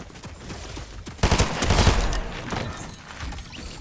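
Submachine gun fire in a trios last-man-standing shooter match, a dense burst of rapid shots swelling in the middle, mixed with other game gunfire and effects, loud and close.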